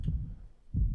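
Heartbeat sound effect from the video game Dark Maze 2, two deep muffled thumps about three quarters of a second apart, low and close with no talk.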